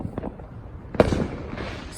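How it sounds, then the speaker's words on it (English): Fourth of July fireworks exploding outdoors near a house on North Utica Avenue, with a few scattered pops and one sharp louder bang followed by crackling, heard at a moderate distance. "Let me videotape these fireworks."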